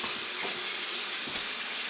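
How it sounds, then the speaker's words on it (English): Water from a kitchen tap runs into a pot holding raw chicken, a loud, close, continuous hiss of splashing flow with no break. "I'm going to put the chicken in the pot, turn on the water"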